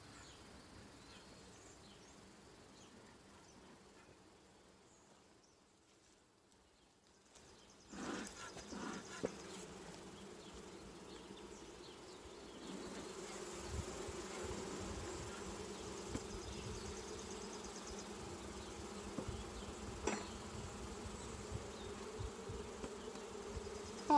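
Agitated honey bees drone loudly around a beehive while a second deep box is added, a dense steady buzz that swells after a quiet start and stays thick and close, with no talking.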